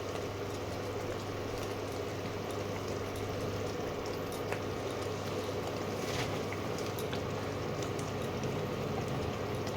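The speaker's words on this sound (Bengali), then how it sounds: "ফুটতে আরম্ভ করেছে" Liquid boiling in a cooking pot, a steady, even bubbling rush that stays close and unbroken throughout, with a few faint clicks and no voices.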